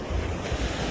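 Ocean waves roll and crash at a surf beach in a continuous roar, with wind buffeting the microphone throughout and no voices.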